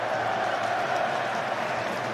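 A record football crowd applauds at the V2 Net Arena in Chesterfield, a dense, steady wash of clapping and crowd noise that holds even throughout.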